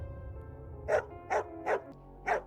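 A neighbour's dog barks four times in a steady, evenly spaced series, moderately close and clear over a low background hum.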